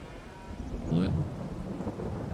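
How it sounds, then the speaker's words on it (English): Summer thunder rumbles low and swells midway through while rain falls steadily on a forest farm, the patter continuing underneath throughout. "There's the thunder."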